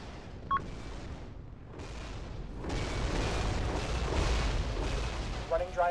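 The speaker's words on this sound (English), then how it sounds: "They're shooting at us." Naval battle video game combat: steady low rumbling booms and gunfire blend into a continuous roar, growing louder midway, with brief voice-like chirps and speech at the edges.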